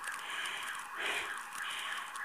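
An electronic alarm wails continuously, rising and falling in pitch, loud and close with no talking, at 1:15 a.m. in a deserted town.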